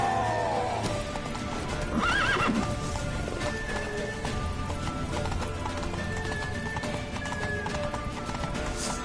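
A horse runs with rapid clip-clopping hooves and gives a couple of neighs near the start, loud and close against a busy background.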